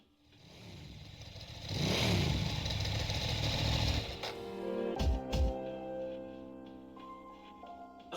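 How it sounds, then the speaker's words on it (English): In the video game Persona 3 Portable, a parked motorcycle's engine rumbles and revs, building to a loud sustained roar before settling, followed by clattering and a sparse game music tone. "This motorcycle's parked in front of you."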